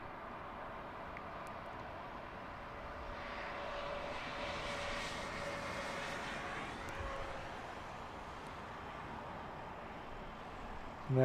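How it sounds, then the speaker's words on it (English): An American Airlines Boeing 777-200ER comes in to land at Heathrow. Its engines give a steady, distant roar that swells gently through the middle and stays broad and even, with no voices. "This one coming in from Charlotte on a 777-200ER."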